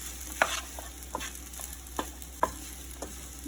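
A spoon scrapes through sabudana khichdi in a pan over a low flame, leaving several distinct soft scraping strokes spaced about half a second apart over a faint background hiss.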